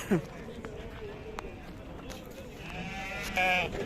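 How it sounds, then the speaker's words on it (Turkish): Sheep bleat over a busy livestock market background in Torbalı, Turkey, with a clear bleat at the start and another near the end, amid shuffling and rustling. "koyunlar bunlar"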